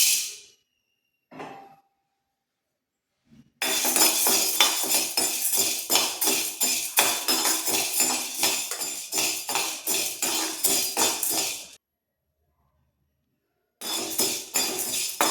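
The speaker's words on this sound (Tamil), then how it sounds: "கடலைப்பருப்பு வச்சுருக்கேன், அதையும் வறுத்துக்கேன்." Chana dal roasts in a pan, with a metal spoon scraping and clinking rapidly and rhythmically against the pan in a long continuous stretch, then resuming after a short silence.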